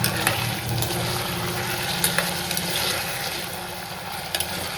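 Onion, tomatoes and chillies frying in oil for a Kathiyawadi-style onion and potato curry, a steady low sizzle with faint crackles running throughout, no one talking.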